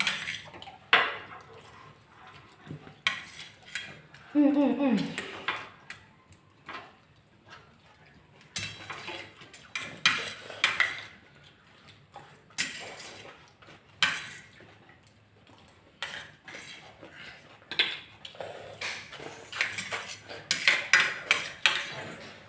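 Chopsticks, a fork and a spoon clinking and tapping against dishes during a food challenge, a run of irregular close clicks and clatters with pauses between them.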